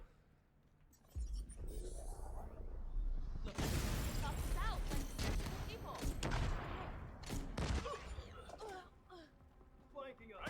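Rapid, booming grenade-launcher blasts and gunfire in the shooter game The Division 2, loud overlapping explosions with clattering debris, mixed under someone talking.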